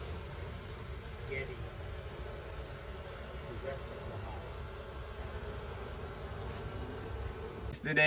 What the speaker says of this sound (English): Today we removed the bees from here